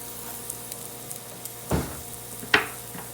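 Filet mignon sizzles on a smokeless electric grill with herbs on it, a faint steady hiss broken by two sharper scraping clicks as a fork stirs the herbs.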